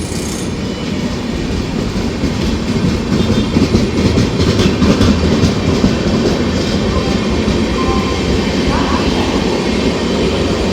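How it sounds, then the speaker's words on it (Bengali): The Sealdah–Malda Town Gour Express, hauled by a WP4 locomotive, passes Belgharia station in a loud, close, continuous rumble with rhythmic wheel clatter and faint squeal throughout. "train number 13153 Sealdah Malda town Gaur express"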